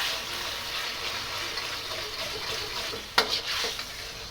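Cornstarch slurry being stirred into a sauce in a pan, a soft continuous bubbling sizzle with a sharp clatter of utensil against pan near the end, close and without talk.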